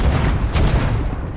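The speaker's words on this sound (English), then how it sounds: "Grab a spare cannon and use it to make us an exit." A cannon in The Legend of Monkey Island: LeChuck's Lair blasts through a wall with a loud, rumbling boom and a dense crash of debris that fills the whole moment.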